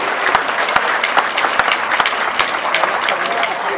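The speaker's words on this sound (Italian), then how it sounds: "Un applauso, complimenti." Outdoor crowd applause at the Palio di Mogliano Veneto 2014 after a flag-throwing (sbandieramento) display, a dense steady wash of many hands clapping with a few sharp close claps standing out.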